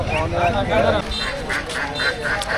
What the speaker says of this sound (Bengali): তিন জাতের হাঁসগুলো বেশ বড় হয় এবং সাদা রঙের হয়